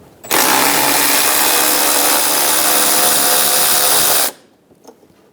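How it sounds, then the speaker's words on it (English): Powered socket tool driving out a 10mm fastener on the windshield washer reservoir of a 2007-2011 Toyota Camry, one steady loud whirring run of about four seconds, then quiet. "Using a 10mm socket, we're going to remove the 3 fasteners for the windshield washer reservoir."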